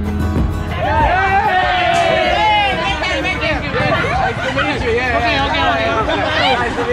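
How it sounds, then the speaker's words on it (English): A dense local market crowd on Alor Island cheers and screams all around. Many overlapping voices shout and whoop at close range in a loud, continuous din that never lets up. "people cheering, screaming, and surrounding us everywhere"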